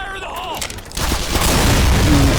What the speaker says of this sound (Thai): ป้อมปืนมันยิงไม่โดนเลย